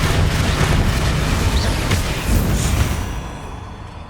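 An Incendio fire spell in Hogwarts Legacy erupts as a loud, sustained whooshing roar with rumbling low booms, fading slightly toward the end.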